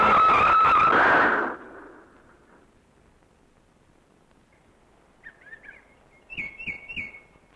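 A car pulls over and skids to a stop, giving a loud, brief tyre squeal that quickly fades into quiet, followed by a few faint bird chirps.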